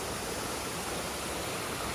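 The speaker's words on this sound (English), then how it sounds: "but this is a beautiful waterfall view" A waterfall on the Appalachian Trail that spills into a cascading river gives off a steady, dense roar that holds even throughout, with no voices.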